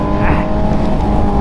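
Old 600cc sport motorcycle engine accelerating hard, a loud, close, continuous snarling roar that holds strong across the whole short burst.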